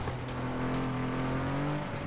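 A truck engine in the FlatOut 2 racing video game drones with a steady, loud low hum, holding a constant pitch with a slight rise near the end.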